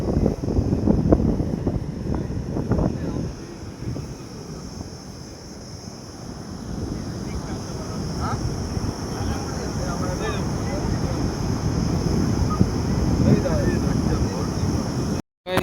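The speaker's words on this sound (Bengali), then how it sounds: "গাইস সমুদ্রের সামনে চলে এসেছি, খুবই আওয়াজ আর দারুণ হাওয়া হচ্ছে" Strong wind buffets the microphone at a beach in front of the sea, a loud, rough roar that is heaviest at the start and continues throughout before cutting out briefly at the end.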